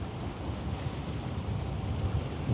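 A wind gust sound effect on a ship-watching livestream, a steady broad rushing roar like gusting wind or surf that holds at a fairly loud level throughout, with no speech.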